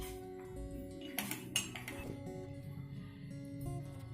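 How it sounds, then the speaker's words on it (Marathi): A spoon stirs a teaspoon of cornflour into half a cup of milk for a rose falooda. It makes soft, repeated clinks and scrapes against the vessel, quiet and close. "आपण ह्या अर्धा कप दुधामध्ये 1 चमचा कॉर्नफ्लॉवर मिक्स करून घेऊया"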